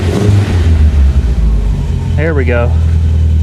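A 1975 MGB that sat for 16 years runs at a steady, close idle with a low, throbbing engine drone, while someone briefly speaks over it.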